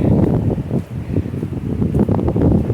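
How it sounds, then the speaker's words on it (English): Wind gusts outdoors on a farm, a loud, rough rumble of buffeting air against the microphone, surging and easing across the short stretch. "Here comes the wind."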